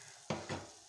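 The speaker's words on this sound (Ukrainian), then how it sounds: "Все тепер перемішуємо." Mushroom sauce with pasta is stirred in a pan, two quick scraping strokes over a quiet background hiss.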